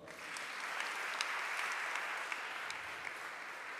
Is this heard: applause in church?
yes